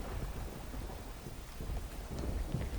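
Heavy rain pouring down in Jamjodhpur during a downpour of over six inches in four hours, a dense, steady, low roar of falling water with no voices.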